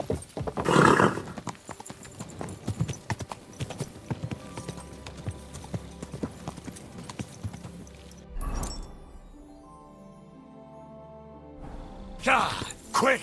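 Steady clip-clop of horse hooves trots throughout in the video game Kingdom Come: Deliverance II, with a brief snort or whinny near the start and a burst of noise toward the end.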